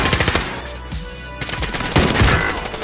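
Rapid bursts of automatic gunfire from a Call of Duty: Warzone match, loud and close, with dense rattling volleys that swell again toward the end of the stretch.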